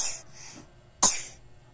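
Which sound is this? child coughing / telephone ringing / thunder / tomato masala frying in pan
child coughing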